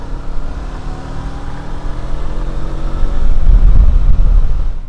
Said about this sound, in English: I'm hoping the microphone picks up a little bit of the engine noise